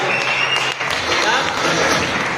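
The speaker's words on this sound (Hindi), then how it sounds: "मिस्टर मोहित पाल जी के लिए साहब जबरदस्त तालियां" An audience at a Haryana business gathering claps loudly and continuously, a dense wash of hands with a few louder individual claps standing out.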